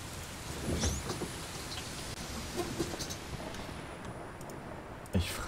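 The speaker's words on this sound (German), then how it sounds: "Und wir haben Regen." Steady rain falls in the Bus Simulator 18 video game, a dense hiss that runs continuously with occasional clicks and a brief thump near the end.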